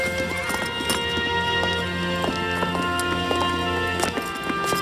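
Horses walk with steady, overlapping clip-clop hoof beats on a hard surface, close and clear, with a brief whinny among them and a musical drone underneath; one horse is lame in the left hind leg.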